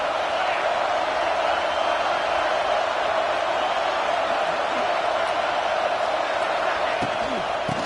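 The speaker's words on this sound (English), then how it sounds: "Big third down as the crowd gets behind this defense." A stadium crowd at a college football game roars steadily through a big third-down play, a dense, loud wash of cheering that never lets up, with a commentator's voice over it.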